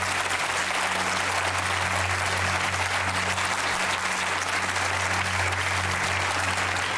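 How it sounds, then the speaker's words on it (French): Studio audience applause on a French television talk show, a loud, dense, continuous roar of clapping held evenly throughout, with a low steady hum underneath. "je demande au public d'applaudir très fort Marie-Ange pour son courage"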